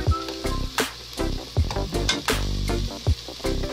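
Butter melts and sizzles in a hot pot with sautéed ingredients, giving a steady frying hiss broken by repeated knocks and scrapes of stirring.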